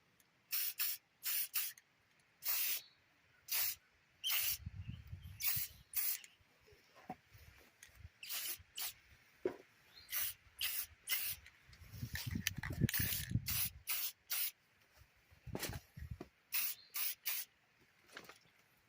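Short hissing bursts of a spray paint can repeat in quick succession, close by, painting a Power Rangers Turbo Morpher toy, with faint handling sounds between sprays.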